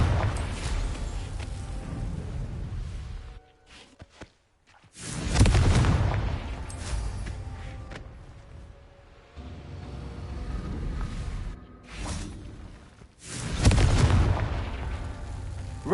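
Deep booming blasts from the Confringo explosion spell in Hogwarts Legacy, several heavy bursts separated by short quieter gaps, loud and close with rumbling tails.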